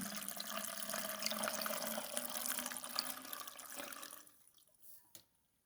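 Salted water pours steadily into a jar with a soft, gurgling splash for a few seconds, then tapers off into a few faint drips.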